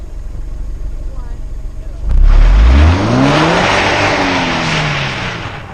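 Rear-wheel-drive Subaru BRZ with 205 horsepower launching on a frozen lake ice track: quiet idle, then a sudden loud rev and rising engine pitch as it accelerates away, settling into a sustained drone.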